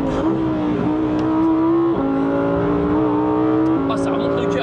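A Lamborghini Huracán Tecnica engine drones with a deep, steady bass note from inside the car while driving on track, its pitch stepping through gear changes, with people talking over it.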